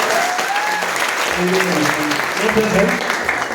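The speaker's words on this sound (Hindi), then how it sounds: "एक बार जोरदार तालियां होनी चाहिए" Strong, sustained applause from an audience at a team gathering, dense steady clapping filling the clip while a voice speaks briefly over it.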